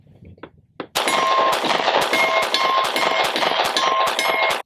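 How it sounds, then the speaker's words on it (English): Glock 43x pistol firing Federal HST 124 grain standard pressure defensive ammunition in a rapid string of about nine loud, sharp shots with ringing metallic tails, following a brief quieter handling noise. "for the last 50 rounds, we're gonna shoot Federal HST 124 grain standard pressure defensive ammo"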